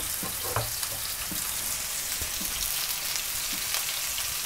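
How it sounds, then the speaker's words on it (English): Ground beef browns in a hot pan for a spaghetti bolognese, a steady loud sizzle and crackle with faint scrapes of stirring, no voices. "We start by browning the beef"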